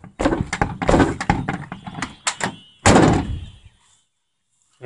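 A series of heavy thuds, creaks and scraping clunks as a stiff old car door is yanked and pushed open, ending in a loud bang, then silence.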